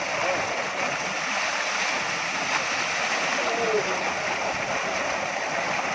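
Cold water gushes from a tubewell motor beside a village canal, a steady loud rushing splash that carries on without a break.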